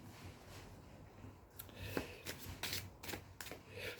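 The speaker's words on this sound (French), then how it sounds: "Et je tire une dernière carte." An oracle card is drawn from a deck: soft, faint shuffling and sliding of cards in a quiet room, with a few light flicks and taps.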